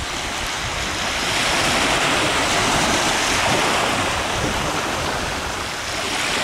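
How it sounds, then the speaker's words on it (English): Gentle ocean surf rolls in steadily under a sea breeze, a continuous broadband wash with light wind buffeting the microphone, fairly loud and close, with no voices. "Just a gentle surf coming in."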